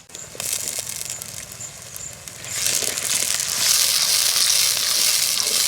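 Finely chopped tomato pieces drop into a pan of Nellore-style bommidayi fish curry, setting off a bright hiss of frying that swells louder partway through and keeps sizzling steadily to the end.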